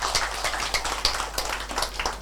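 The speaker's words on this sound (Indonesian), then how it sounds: "Kasih tepuk tangan buat Tuhan" A church congregation at a Christmas service claps together, a dense, fairly quiet patter of many hands with no talk over it.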